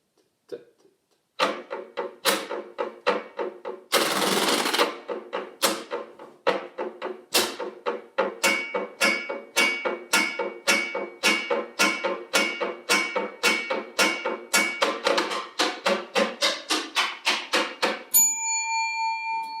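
A washboard plays a blues shuffle practice rhythm as a long run of crisp, evenly spaced metallic scrapes and clicks. A brief buzzing rasp breaks in early, then the pattern speeds into a dense, steady shuffle before a short ring at the end.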